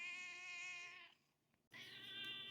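A talkative pet cat meows twice indoors, a long drawn-out harmonic meow, a brief pause, then a second meow, both close and fairly clear.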